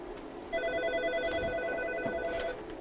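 An electronic telephone rings during a test of an office phone system, a steady warbling ring tone lasting about two seconds over a quiet room background.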